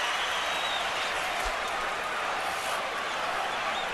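Ringside boxing crowd applauding and cheering in a steady, dense roar that fills the whole clip at a distance, with no clear individual voices.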